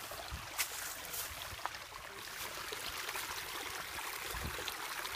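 A small river flows through woods, a soft steady rushing of water with a few faint knocks and rustles close by.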